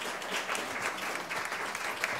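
Steady, dense clapping from an audience at a literary conversation event, continuous and even throughout with no talk over it.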